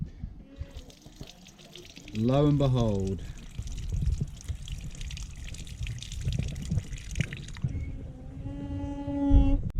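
Water is forced out of the cooling system of a wrecked Honda CRF Africa Twin motorcycle by pumping air in with a bicycle pump. It makes gurgling, squeaky, whistling bubbles and splashing, with someone talking over part of it.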